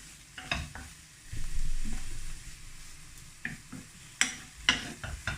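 Vegetables stirred in a hot pot sizzle steadily, with spoon scrapes and clanks growing louder toward the end; no voices.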